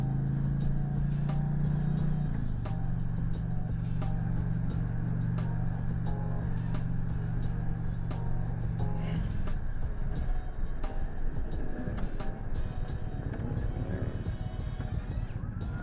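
Indian Pursuit Powerplus 112 motorcycle pulling in third gear in sport mode, a steady engine drone that rises and shifts, with wind rush and regular clicking ticks, loud and close, a voice faintly present.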